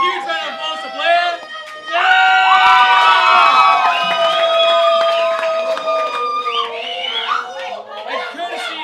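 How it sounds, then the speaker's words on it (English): A lively crowd at a slam event bursts into cheering, whoops and shouts after a brief pause, loud and sustained with many overlapping voices, trailing into chatter near the end. "Can we get one more huge round of applause to Blair?"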